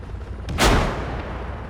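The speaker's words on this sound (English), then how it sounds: "Somebody's shooting him." A single sharp rifle shot in the Arma 3 game cracks out loudly, followed by a short booming echo that fades away.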